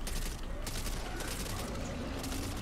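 Pistol shots from a first-person shooter video game keep firing through a dense, continuous burst with sharp transients, heard up close with no talking over it.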